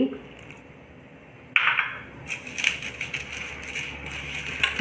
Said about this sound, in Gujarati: પાણી નાખી લોટ બાંધી દેશું આ